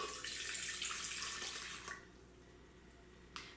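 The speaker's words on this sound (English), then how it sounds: "we're going to add to this all of our water" Water pours steadily into a bowl of flour for ciabatta dough, a close, hissing stream that tapers off after about two seconds, followed by quieter stillness and one brief splash.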